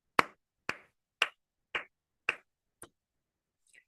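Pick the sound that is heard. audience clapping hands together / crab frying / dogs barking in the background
audience clapping hands together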